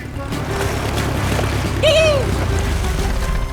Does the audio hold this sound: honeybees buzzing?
no